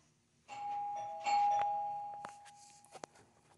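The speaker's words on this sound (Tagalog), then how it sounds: "Tapos may nag-doorbell." A two-tone doorbell chimes twice in a home, the sustained tones ringing and decaying with some light clatter and faint background activity, no talking over it.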